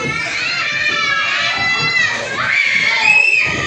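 Children shout and scream loudly and continuously at a first birthday party, several high voices overlapping close by with crowd noise beneath.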